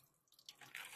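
Water runs into a sink as hands are rinsed under a tap, a soft, steady splashing that grows slightly louder toward the end.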